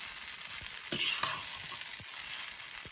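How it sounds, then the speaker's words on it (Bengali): Chowmein noodles fry in a pan with pepper, a close continuous sizzle overlaid with a few soft scraping stirs of the spatula, steady and fairly quiet with no speech. "দিয়ে আবার নেড়ে নেওয়া হচ্ছে।"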